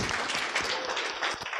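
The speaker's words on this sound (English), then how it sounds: "Give her a big round of applause" An audience claps during a live coaching and motivational talk, a dense, steady burst of applause from many hands, moderately loud and brief.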